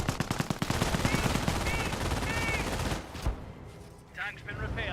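Rapid machine-gun bursts come from a slit trench in the Company of Heroes strategy game, a fast rattling stream for about three seconds, then a sharp single shot and quieter scattered battle noise under a commentator's voice.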